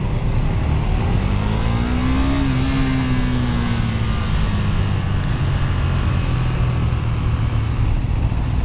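A KTM 390 Duke single-cylinder motorcycle rides through the streets of San Francisco, its engine a loud, steady drone close by, with one rising-and-falling shift in pitch as it is ridden.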